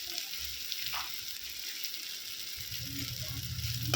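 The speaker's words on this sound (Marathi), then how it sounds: "व्यवस्थित मिक्स करून परतून घ्यायचं आहे" A dried shrimp chutney mixture with turmeric and red chili sautéing in a pan, a steady close sizzle with faint stirring scrapes that grows a little louder toward the end, no talking.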